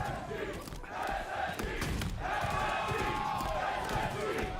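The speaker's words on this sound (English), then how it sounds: "that one got the crowd going" A packed esports arena crowd roars and cheers during a Halo championship match at a Salt Lake City tournament, sustained loud crowd noise with commentators talking over it.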